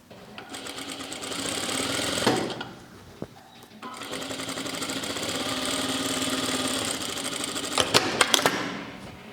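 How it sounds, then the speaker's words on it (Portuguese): A sewing machine stitching a shirt seam, running in two long continuous bursts with a brief pause between them and a few short stops near the end, close and loud with no talk. "E vou costurar meio centímetro só pra dentro."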